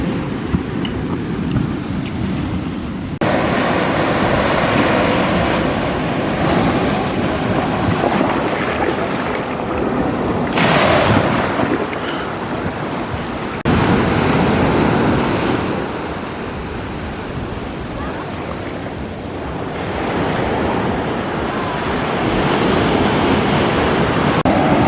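Sea waves wash onto an empty beach at Punta Cana, a loud, continuous roar of surf that swells and eases in long surges, mixed with wind buffeting the microphone.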